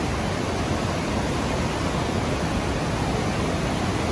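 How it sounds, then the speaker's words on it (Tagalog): Aliwagwag Falls, a waterfall in Davao Oriental, roars as a steady, loud broadband rush that stays even and unbroken from start to finish, with no voices over it. "Aliwagwag Falls"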